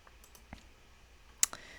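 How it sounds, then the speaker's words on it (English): One sharp, close computer mouse click near the end of a quiet stretch, with a few faint softer clicks before it, while clicking an add-new button in accounting software. "I'm going to click add new"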